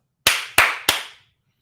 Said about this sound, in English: those 3 claps are going to help me when I'm editing